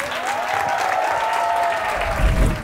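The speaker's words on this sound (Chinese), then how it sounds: "给自己一个掌声" Applause from a live comedy competition audience, a steady broad wash of clapping throughout, with a sustained tone running beneath it and a low rumble swelling near the end.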